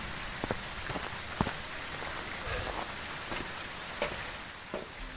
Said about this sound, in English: I don't like talking when the rain's going.